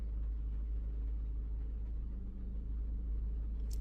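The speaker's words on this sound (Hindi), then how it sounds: "गाड़ी स्टार्ट है भाई" A Maruti Brezza engine idles smoothly and quietly after an overhaul, a steady low hum that holds even throughout with no rattle or vibration.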